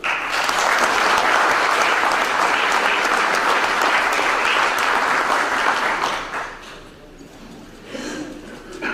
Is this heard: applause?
yes